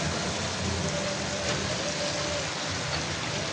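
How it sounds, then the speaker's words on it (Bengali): Steady rain falls continuously, a dense even hiss of drops with no breaks, fairly close and moderately loud. "বৃষ্টি পড়ে দেখছো সঠিক"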